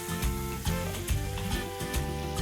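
Fresh cooking cream poured into melting butter in a pan for a lemon butter cream sauce; a close sizzle swells in several bursts under a soft steady background, no voices.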